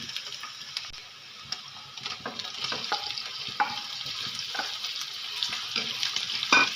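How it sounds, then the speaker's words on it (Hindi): Chicken pot pieces fry in a pan with a continuous hissing sizzle, broken by occasional stirring scrapes and light utensil taps, and no one speaking. "इसको अच्छी तरह भूनेंगे जब तक ये लाइट गोल्डन कलर इसका हो जाएगा"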